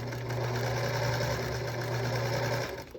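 A sewing machine running a quarter-inch seam on a 2.5-inch fabric square during chain piecing, a steady close whirring hum of stitching for nearly three seconds before slowing to a stop.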